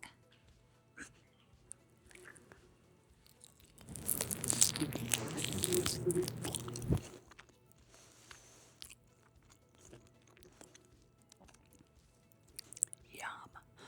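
Close, crisp crunching and chewing of a crunchy deep-fried chicken wing drumette, a dense three-second burst of bites and crackles amid quiet whispering before and after.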